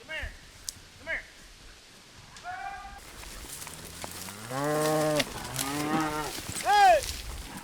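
Range cattle in rugged cowboy country moo repeatedly while cow dogs roust them from hiding, with several close, drawn-out lows and a few shorter calls.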